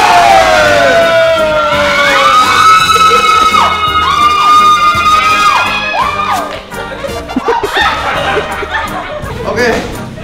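An ambulance siren wails loudly at close range with rising and falling tones, mixed with crowd noise and cheering at a boxing match.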